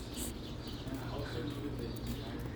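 Birds chirp and coo in the evening against a dense, noisy outdoor background in India, with a voice talking faintly underneath.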